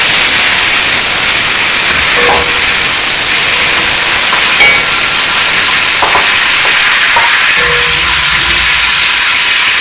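Finely chopped red onions sizzle and hiss steadily in a hot pan while making Kenyan beef pilau, a loud, continuous frying roar with a few small clinks.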